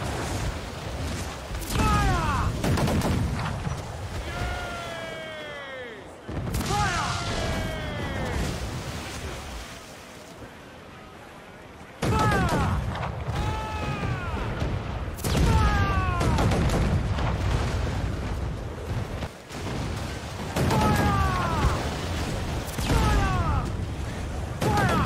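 Ship cannons in Assassin's Creed IV Black Flag fire on a naval fort, with repeated loud booming volleys and crashing impacts amid game sound effects and shouted crew voices.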